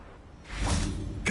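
Casting the Revelio revealing spell in Hogwarts Legacy gives a soft magical whoosh that swells up and sustains, then ends in a brighter shimmering flourish. It is fairly quiet, with no voice.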